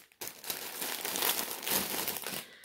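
Plastic packaging of cushion covers being torn open and handled, a loud continuous crinkling and rustling of thin plastic, close up, lasting a couple of seconds with no talk.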